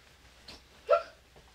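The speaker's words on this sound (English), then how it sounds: "I have the hiccups" A single short, voiced hiccup pops up close by during a DIY craft session. It is quiet and isolated against a faint background, with only a slight breath sound just before it.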